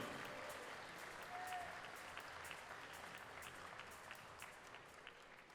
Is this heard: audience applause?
yes